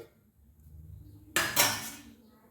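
A lid set on a pot of pink perch fish curry, a single close metallic clatter and rattle after a quiet start, fading within a second.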